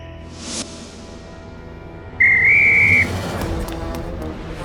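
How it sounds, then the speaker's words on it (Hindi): A steady, shrill referee-style whistle blast of just under a second, loud and close, rising slightly in pitch, set against a noisy indoor comedy scene with background clatter. "सीटी बजा के"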